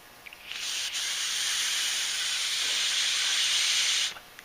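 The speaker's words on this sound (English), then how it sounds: "You can hear the air rushing out of there." Air blown through the small holes of a Tecumseh H60 carburetor gives a steady, close hiss lasting several seconds, starting and stopping abruptly.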